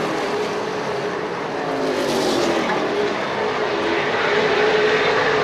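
Race cars roar around Desoto Speedway during a 75-lap feature event, a steady dense engine drone with a rising and falling pitch as the field passes.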